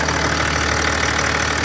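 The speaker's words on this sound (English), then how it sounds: "it is a lovely smooth engine" BMW X6 engine idling cold in the engine bay, a steady, smooth, loud mechanical drone heard up close and alone.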